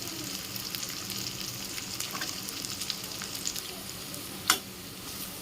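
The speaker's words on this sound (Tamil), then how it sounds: "நெக்ஸ்ட்டு பீன்ஸு கேரட்டு அதையும் இதில் ஆட் பண்ணிக்கிறேன்" Beans and carrots frying in a pan for vegetable semiya biriyani, a continuous close sizzle with occasional stirring scrapes and one sharper clink near the end, no voices.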